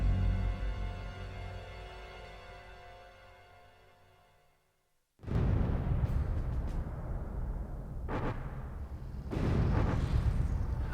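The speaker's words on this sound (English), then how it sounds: "The mortar, which had a characteristic thud when in action, was percussion fired" A WWII-era percussion-fired mortar fires with a heavy thud. A sustained tone fades to near silence, then one loud, deep blast rumbles on, followed by two more booming bursts a few seconds later.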